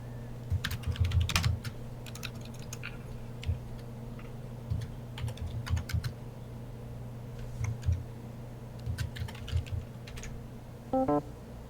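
Typing on a computer keyboard comes in irregular bursts of quick, close clicks and taps separated by short pauses, with a faint steady hum beneath and a brief electronic chime near the end.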